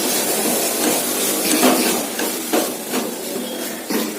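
Carrots and tomato being sautéed in a pan for carrot chutney, with a steady soft hiss of frying under a few sharp scraping taps of a spatula against the pan, close by.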